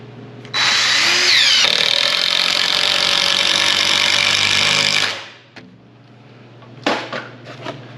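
Power drill driving fixing screws into a partition wall, one loud sustained whine of about four and a half seconds that winds down, followed by brief clicks and handling knocks.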